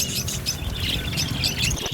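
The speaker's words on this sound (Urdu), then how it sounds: "نازک طوطے جب چہچہائیں تو ان کی سرور بھری آواز ہر کسی کی توجہ اپنی جانب" Caged budgerigars, small Australian parrots, chirp and twitter continuously in a busy, dense chorus of overlapping tweets and squawks, close and fairly loud with no talking.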